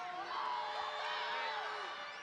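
Basketball arena crowd at a Purfue Fort Wayne game screaming, whooping and cheering in a loud, sustained roar that fills the whole clip.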